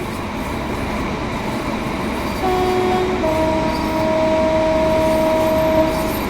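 A BR Class 150/2 diesel train in Regional Railways livery runs on the West Cornwall line in Train Sim World 2, with a steady engine and rail rumble and a sustained tonal whine that comes in partway through and holds.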